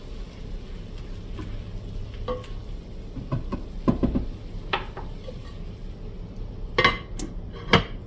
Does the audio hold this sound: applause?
no